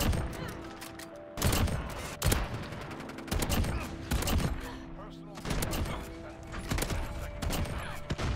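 Repeated loud sniper rifle shots from an MK2 or Kar98k in Modern Warfare crack out every second or so, each a sharp close blast over steady in-game background noise.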